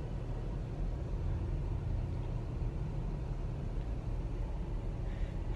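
A car moves through Kuwait traffic on a commute, giving a steady low engine and road rumble from inside the cabin, continuous and fairly loud, with no talking.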